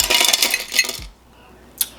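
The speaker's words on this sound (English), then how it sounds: "I'm gonna add my ice" Ice cubes tumble into a glass for an iced caramel macchiato, a dense clattering burst for about a second, then a quiet gap and one more sharp clink near the end.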